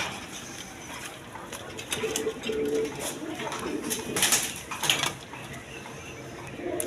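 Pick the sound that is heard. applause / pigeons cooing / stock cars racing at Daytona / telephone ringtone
pigeons cooing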